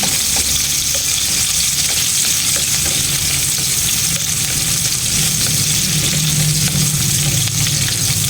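Onion sautéing in a pan for crab cooked in coconut milk with squash, a loud, dense, unbroken sizzle close up, with faint scraping as it is stirred.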